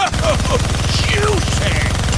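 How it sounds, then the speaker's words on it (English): A minigun fires in a steady, fast mechanical rattle in the Deadpool video game, close and loud, with a voice talking over the brief burst. "Gonna need both hands to shoot that minigun."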